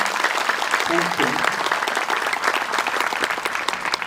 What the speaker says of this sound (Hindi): जोरदार तालियों से गुरुदेव का स्वागत।